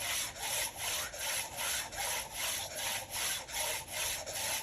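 Steady back-and-forth strokes of a speed skate blade being sharpened, a rhythmic rasping scrape repeating about twice per second, close and alone with no talk.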